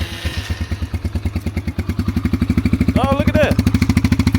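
A motorcycle with a choke sputters to life and settles into a loud, steady idle, its close exhaust pulses thumping in an even rhythm; someone speaks briefly over it.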